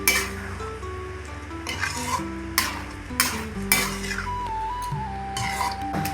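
Tamarind being stirred into sambar rice in a pot, with repeated scraping and light utensil clinks over a gentle simmer, while a soft melodic tone plays in the background.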